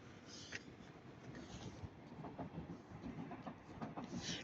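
British Rail Class 331 unit 331-102 passes at Ardwick, a faint, distant rumble with rhythmic clickety-clack of wheels over rail joints running steadily throughout.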